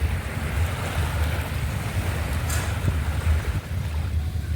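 Continuous rumbling surf at night at Pattaya, Thailand, with a low roar of waves and wind, steady and fairly loud with no voices.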